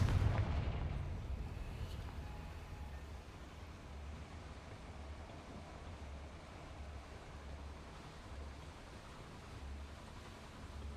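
A Confringo fire spell explodes in Hogwarts Legacy with a deep, booming burst at the start that fades into a long, low rumbling roar, fairly faint overall.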